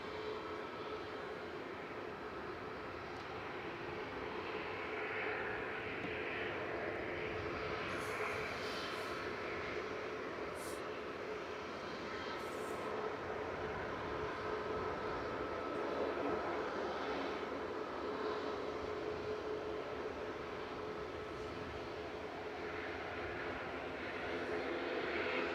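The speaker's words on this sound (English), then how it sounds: "noisy prop as well." Propeller aircraft at Manchester Airport, a distant steady droning engine roar that holds for a long stretch with faint chatter nearby.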